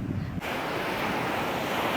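Sea waves wash continuously onto the seashore, a dense, steady roar of surf close by, with no talking.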